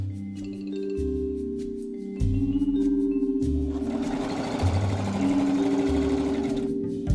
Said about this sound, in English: turning it in another 1/4 of an inch and stitching all the way around